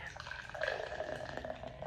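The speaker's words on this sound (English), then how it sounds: "I'm trying to pour this and not generate much head" Colt 45 beer pours steadily from a can into a glass with a soft, gurgling splash, close by and fairly quiet.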